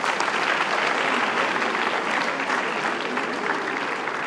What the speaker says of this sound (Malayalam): ഒന്ന് എഴുന്നേറ്റ് നിന്ന് കൈയടിച്ചു കൊടുത്തവർക്ക്